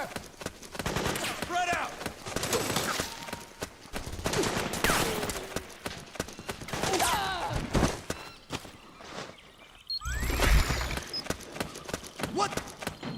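Soldiers in Metal Gear Solid 4 fire a volley of rapid, crackling gunshots in scattered bursts, with a shouted voice and some clattering hoof-like steps among them, then a sharper, louder blast near the end.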